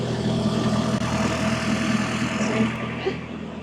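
A refrigerated truck trailer's cooling unit hums steadily at a truck stop in the Alsace rest area, a close, continuous mechanical drone with layered low tones and no pauses.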